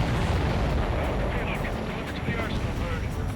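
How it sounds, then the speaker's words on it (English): Booming explosion of a supply ship in the combat flight game Ace Combat 7, a dense, rumbling blast that stays loud for several seconds over steady jet and battle noise. "Did you see that explosion? Looks like that's one of them down."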